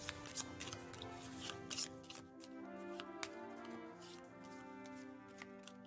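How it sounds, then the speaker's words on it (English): A small twelve-card deck of board game cards is shuffled overhand, giving a run of quick papery slaps and riffling ticks at close range, steady and fairly quiet, with no talking over it. "Overhand shuffle's not bad."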